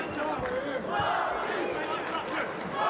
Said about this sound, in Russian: И снова толпа включается